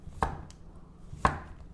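A knife chops through a carrot on a cutting board in two crisp, solid strikes about a second apart, close and clear with nothing else heard.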